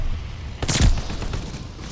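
A grenade explosion in Call of Duty Vanguard, a sudden loud blast breaking through steady battlefield noise, followed by rumbling debris and scattered gunfire.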